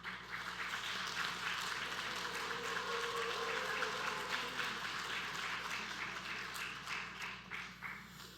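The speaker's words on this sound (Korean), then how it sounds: "우리 환영하고 축복하는 박수 하도록 하겠습니다" A church congregation claps steadily for a newly arrived army lieutenant colonel. The applause is soft and distant, a sustained even patter lasting throughout before easing slightly at the end.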